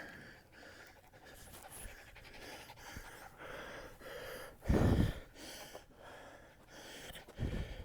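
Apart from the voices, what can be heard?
dog panting on a hiking trail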